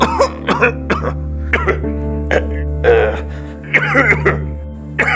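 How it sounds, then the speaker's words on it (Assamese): A person coughs repeatedly in short, harsh bursts with some throat clearing, close by, over a steady low hum. "কি হ'ল? ইমানকৈ কাহিছা যে?"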